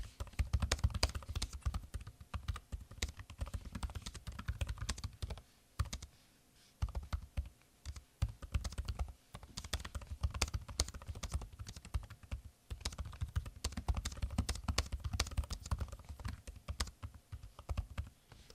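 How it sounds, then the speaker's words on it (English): Typing on the keyboard of a 2026 Surface Laptop 8th Gen in Notepad: a steady run of crisp, close key clicks with brief pauses, continuing for well over fifteen seconds with no talking. "So that gives you an idea of what the keyboard sounds like."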